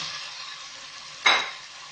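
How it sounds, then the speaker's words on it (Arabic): Thinly sliced chicken breast fries in hot oil with a steady, close sizzle, broken by a sudden louder hiss and crackle near the middle that swells briefly and then settles back. "واش ندير شويه تاع الزيت تسخن، وندير صدر تاع الدجاج مقطع رقيق"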